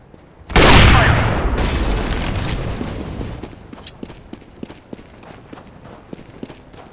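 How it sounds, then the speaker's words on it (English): A flashbang grenade detonates in a video game with a sudden loud blast that rings out and slowly decays, followed by scattered sharp clicks and small impacts. "Grenade out! Deploying flashbang."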